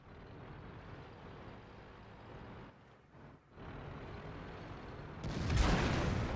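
A tank cannon fires in World of Tanks: after several seconds of steady engine rumble and a brief lull, one loud, sharp, broadband blast hits near the end and rings out.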